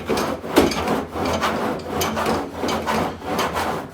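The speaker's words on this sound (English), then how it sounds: "I like to take a cheese grater. It's for Bondo, and just take off the high spots" A Bondo cheese grater shaves high spots off body filler on a pickup truck, giving rhythmic raspy back-and-forth scraping strokes at close range.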